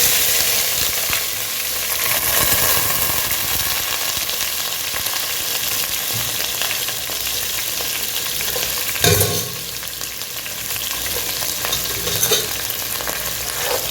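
Onions frying in oil with cloves and cardamom for a mutton and bottle gourd gravy, sizzling loudly and steadily at close range, with repeated scraping and clacks of stirring and one sharper knock near the end, no speech.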